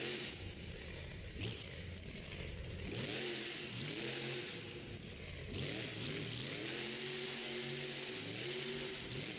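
A Monster Jam monster truck engine revs hard in an Oakland stadium, rising and falling in repeated pitch sweeps, loud and rough with rattling, while a commentator's voice carries faintly through the roar.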